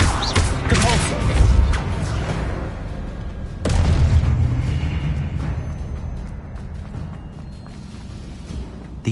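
Repulsor spells cast in Hogwarts Legacy, two heavy booming blasts a few seconds apart, each with a whooshing rumble that fades slowly.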